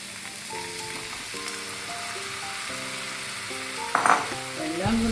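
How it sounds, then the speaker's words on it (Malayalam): Tomatoes frying and being stirred in a pan while making restaurant-style butter chicken, a steady close sizzle with soft stirring scrapes and a brief clatter near the end, under a musical backing with no talk. "അപ്പോൾ ഇനി നമുക്ക് തക്കാളി ഇട്ട് കൊടുക്കാം."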